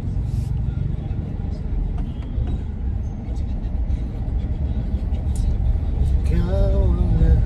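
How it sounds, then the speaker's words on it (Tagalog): Motorized tricycle engine rumbling low and steady nearby, with a brief revving whine near the end, under street noise and scattered talk. "Tricycle eh."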